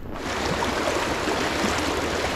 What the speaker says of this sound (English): Oh yeah, there's some white water.